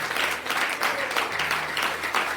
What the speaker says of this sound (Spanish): ese aplauso fue para el Señor